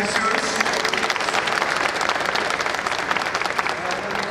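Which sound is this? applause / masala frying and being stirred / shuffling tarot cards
applause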